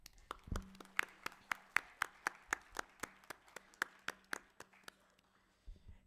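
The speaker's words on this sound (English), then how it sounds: "let's give them a big round of applause" Applause from a small audience at a national conference on food packaging: a faint, steady run of separate, evenly spaced hand claps lasting several seconds, then trailing off, with no talk over it.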